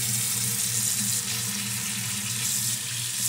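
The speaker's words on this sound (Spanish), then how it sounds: "aquí tienes tu agüita caliente" Hot water runs steadily from a motel bathroom tap, a continuous close splashing stream with no pauses and no voices over it.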